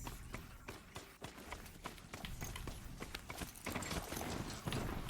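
A horse gallops in a video game, its hooves clip-clopping in a quick, steady rhythm that continues throughout, close and clear with no talking.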